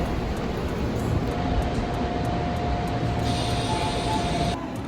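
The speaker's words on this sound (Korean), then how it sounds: "지금 들어오고 있는 열차" A subway train rumbles steadily into the station, a loud sustained roar with a faint high whine and hiss rising near the end.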